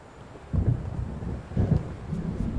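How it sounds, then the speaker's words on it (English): Deep thunder rumbles twice in the video game Alan Wake as a storm approaches, low rolling booms over a soft bed of wind and surf. "It seems there's a storm coming."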